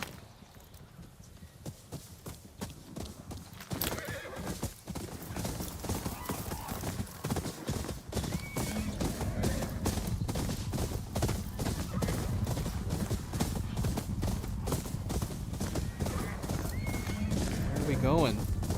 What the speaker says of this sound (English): You want me to run with the spirit horses?